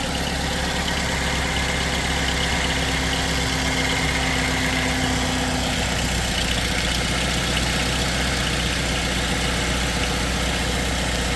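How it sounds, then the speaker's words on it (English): A 2010 Chevrolet Cobalt with a 2.2L engine idles with a misfire, giving a steady, loud mechanical drone with an uneven, shaky pulse running through it. No one speaks. "I'll start the car."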